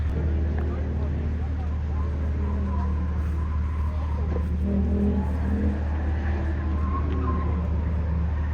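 BMW and Mercedes cars racing at the Festival of Speed make a continuous low engine rumble that swells slightly, heard from the spectator area with crowd noise and voices mixed in.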